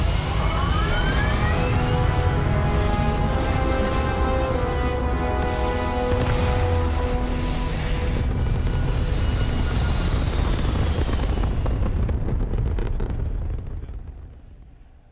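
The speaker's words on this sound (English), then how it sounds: "All thrusters firing." Spaceship thrusters fire in the video game Starfield with a loud, sustained roaring rumble, rising whining tones layered through it, before the sound fades out at the end.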